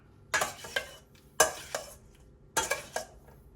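A spoon scrapes and clinks against a pan while stirring mushrooms that are glossy with their released liquid, in three close clusters of metallic taps and scrapes separated by short pauses, with no talk.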